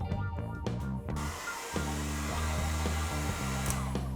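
A hair dryer blows with a steady whooshing hum and a strong tonal whine, and a few brief knocks and shifts of airflow come near the start.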